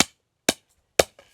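Hammer blows driving nails into the timber frame of a small Thai farm hut, three sharp separate strikes about half a second apart followed by a lighter tap, close and loud with no talk.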